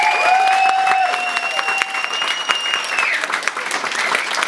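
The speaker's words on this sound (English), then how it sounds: "A round of applause for Gemma, please." Wedding guests break into a warm, sustained round of applause that stays full and dense before thinning slightly at the end, with cheering whoops rising above the clapping.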